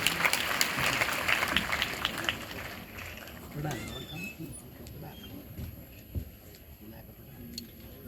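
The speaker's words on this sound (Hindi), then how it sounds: "जोरदार तालियां होनी चाहिए" An audience at an event welcomes a state education minister with a burst of clapping that fades after a few seconds, followed by quieter room sound with a voice speaking.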